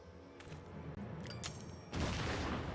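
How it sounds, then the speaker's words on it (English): Video game explosions burst out as a loud, dense barrage of booms and crackling blasts. A heavier, wider eruption hits near the end. "Explosions!"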